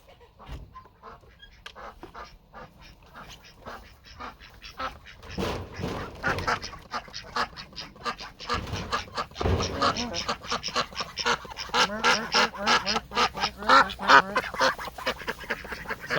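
Runner ducks quack in a noisy flock at morning feeding, with repeated overlapping calls that grow louder and busier toward the end.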